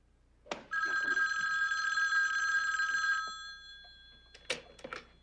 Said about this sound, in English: Mike, there's a call for you.